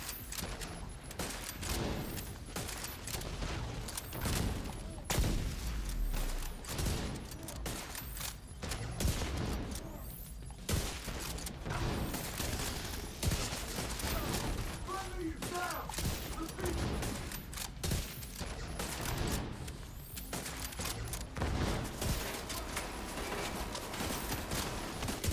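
Sustained light machine gun fire in The Division 2 runs nearly nonstop through the stretch, rapid loud rounds with brief pauses such as a reload, while a voice talks now and then underneath.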